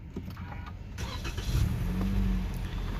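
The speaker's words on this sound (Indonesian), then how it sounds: "tinggal kita injak pedal rem dan tekan engine start button di sebelah kanan setir ini untuk menyalakan mesinnya" A Toyota Camry facelift is started with its push start button: a short starter whir, then the engine catches and settles into a smooth, steady idle heard from nearby.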